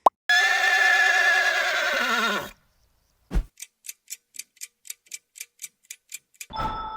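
A horse gives one loud, drawn-out neigh whose pitch wavers and slides down. A clock ticks steadily after a pause, with no talking.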